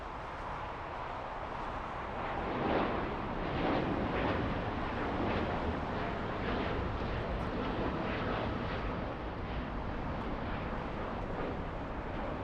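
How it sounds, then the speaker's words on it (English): Boeing 787 Dreamliner airliner passing over near LAX, a steady broadband jet roar that swells slightly and holds loud and continuous throughout with no talking. "there goes the 787 Dreamliner flying to Osaka,"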